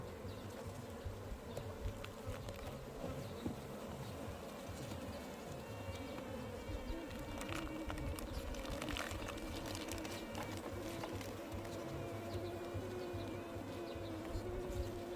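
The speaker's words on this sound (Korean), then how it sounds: "벌이 이게 지금 갑자기 많이 늘어났어요" Dense, steady buzzing of many Korean native honeybees at an open beehive during hive inspection, close and continuous, with a busy swirling drone and no speech.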